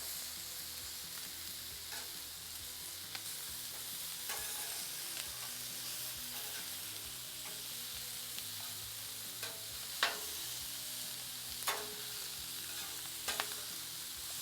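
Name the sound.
chicken wings sizzling on a Blackstone griddle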